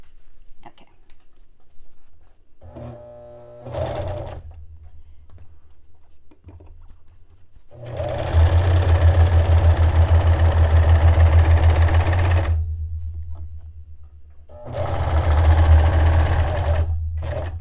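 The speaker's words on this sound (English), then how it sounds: "The serger." A serger sewing machine runs in three bursts: a short whir, a longer steady run of several seconds, then another brief run, with quiet pauses between them.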